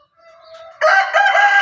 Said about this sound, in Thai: ส่วนคู่ตัวสู้อีกตัวหนึ่งก็ ร้องคาสนามครับ